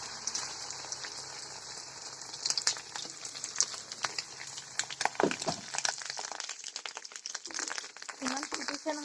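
Fish roe paste spattering and crackling as it fries in hot oil, a steady hiss with scattered pops and bursts, while a person talks over it nearby.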